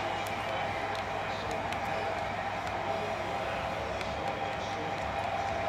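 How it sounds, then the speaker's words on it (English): A steady, dense roar of a stadium crowd in a college football video game, Nebraska versus LSU, holds constant throughout, with no distinct peaks, like continuous cheering in a large arena. "The crowd is in it and loud."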